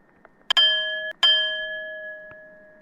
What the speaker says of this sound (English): It is a good bell noise.